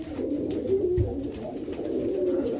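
Soft, low cooing from smoke-coloured pigeon hens repeats steadily at close range, with a faint constant background hum and no voices.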